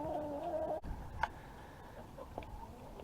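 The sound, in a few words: brooding hen clucking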